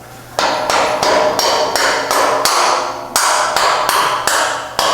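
A mallet strikes a bolt into a car's rear suspension during a Mk5 30th Anniversary build, landing about nine loud, close, evenly spaced metallic blows with ringing decay, one after another with no talking.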